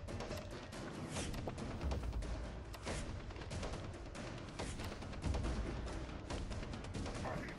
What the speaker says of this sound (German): direkt mal einen Schuss in den Nacken gekriegt